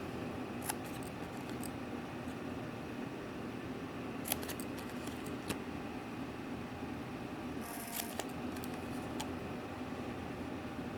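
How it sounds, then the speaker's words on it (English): An EK Success 2-inch paper punch cutting paper, heard as faint, sparse snips and clicks spread over a quiet background. "this is a 2-inch EK Success Punch, so we're just going to cut up every 2"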